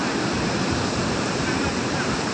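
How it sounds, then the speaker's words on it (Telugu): Water rushes down through two opened gates of the Pulichintala dam, a loud, dense, unbroken roar of falling, churning water heard close by. "రెండు గేట్ల ద్వారా నీళ్లు కిందకి వదులుతున్నారు చూడొచ్చు మీరు"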